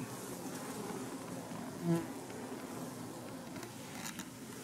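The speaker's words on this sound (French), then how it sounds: "On entend les ventileuses, incroyable le bruit qu'elles font." Honeybees fanning hard at a south-facing hive in the heat make a constant loud, close drone, with a single insect passing by briefly louder midway; no speech.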